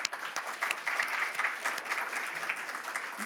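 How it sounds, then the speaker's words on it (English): Audience applause at a healthcare luncheon in a Toronto hotel venue, a continuous dense patter of clapping from a sizeable crowd, fairly soft and even. "Let's give them a warm round of applause"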